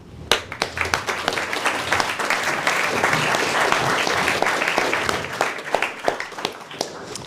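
An audience at a public speaking competition grand final applauds after the questions. The clapping swells into a full, steady wash of applause and then thins into scattered individual claps.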